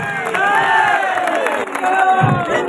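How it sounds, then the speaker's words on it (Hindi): A crowd at a rally with a martial arts grandmaster cheers and whoops in honour of soldiers, police and home guards, with raised voices and shouts filling the space and clapping blended underneath. "उन सिपाहियों के लिए जरा एक बार हाथ उठा के ताली बजाइए।"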